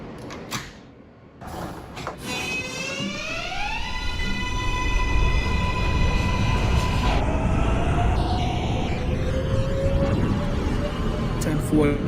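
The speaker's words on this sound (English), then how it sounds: "This is a Queens-bound J local train via the F line." A simulated NYC Subway R143 train on a Queens-bound J local service in the OpenBVE simulator pulls away, its electric traction motors whining upward in pitch over a loud, continuous rumble of wheels on rail.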